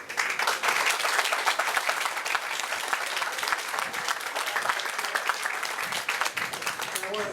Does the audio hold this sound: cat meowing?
no